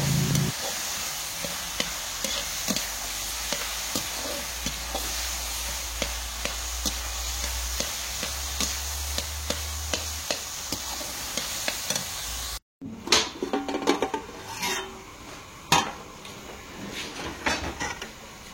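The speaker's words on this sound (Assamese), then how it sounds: "এতিয়া খুব সুন্দৰকৈ ভাজি ল'ম কচু আৰু বিলাহী" Taro and tomato frying in a pan for a traditional Assamese dish, a steady sizzle with repeated scraping stirs, then a brief break followed by sharper clatters and utensil knocks.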